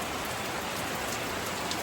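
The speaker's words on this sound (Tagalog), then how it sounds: "So, maulan dito sa amin ngayon." Steady rain falling during a tropical storm, a soft even hiss of drops on surfaces, quiet and continuous throughout.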